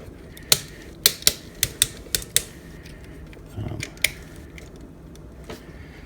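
Ratcheting joints on a Transformers Combiner Wars Liokaiser plastic toy figure, a series of sharp close clicks in a quick uneven run, then a soft rustle and a few more isolated clicks, with no talking.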